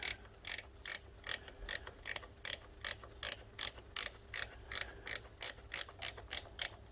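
A spanner ratchets new bolts tight on a Honda CB750 K2 motorcycle, giving a steady run of about eighteen sharp, evenly spaced clicks, close and clear with nothing else heard.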